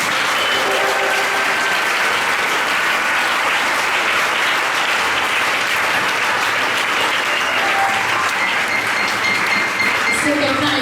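A church congregation claps and cheers together during a worship service, a dense, steady wave of applause filling the room throughout with voices mixed in.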